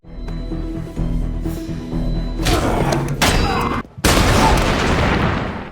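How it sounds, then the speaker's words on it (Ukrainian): Heavy booming thuds and a big blast burst out, followed by a loud roaring rush of debris, like an explosion in a movie scene from Iron Man 2. "Сидячи у в'язниці, Івану приносять вибухову посилку"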